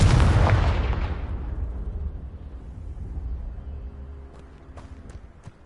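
A Confringo blasting spell explodes in Hogwarts Legacy: one loud, broad boom that fades slowly into a rumbling tail. A few faint clicks follow near the end.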